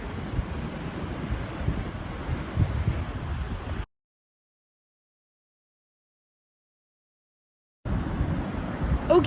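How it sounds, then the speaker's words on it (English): Ocean waves rolling in below sand dunes give a steady, loud wash of surf with wind buffeting the microphone, cut by a stretch of dead silence before the roar resumes. "One last little pano of these neat waves coming in here."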